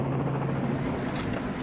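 A helicopter on a rhino anti-poaching operation in South Africa drones steadily with a low rotor hum and broadband wash, continuous and fairly close, no voices.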